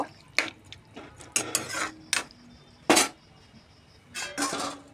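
A spoon mixing water and chopped tomato into a curry in a pan, with several distinct metallic scrapes and clinks at irregular intervals, close and fairly loud, over a faint background hiss.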